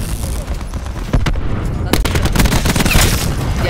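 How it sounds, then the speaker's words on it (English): Rapid bursts of gunfire and blasts from cluster grenades in a Call of Duty hardpoint match, loud and close, with sharp broadband cracks around the one- and two-second marks over a constant dense battle din and faint voices. "Cluster grenade going out."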